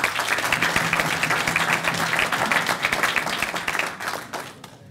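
Steady applause from a crowd, many hands clapping densely for several seconds before thinning out and fading at the end.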